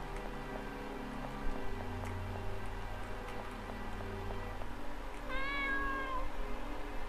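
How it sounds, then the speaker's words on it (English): A cat in an RPG Maker horror game lets out a single drawn-out meow near the end, clear and close over a steady droning ambient background with faint ticking. "Oh, a cat."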